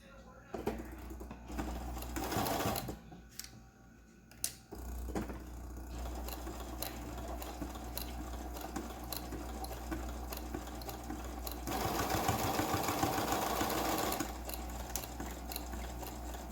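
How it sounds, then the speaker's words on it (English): A sewing machine runs a zigzag stitch along a fabric seam, a steady mechanical whir and rapid needle chatter up close, with a brief pause before it picks up and grows louder toward the end. "we're gonna go ahead and sew this. And this is where I like to do the zigzag again"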